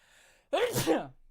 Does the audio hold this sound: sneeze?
yes